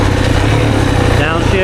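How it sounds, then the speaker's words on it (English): A 2024 Yamaha YZ450FX dirt bike engine lugs at low RPM on a woods ride, a steady loud low rumble close by with a brief whine partway through. "It's even lugging, but slow in RPM."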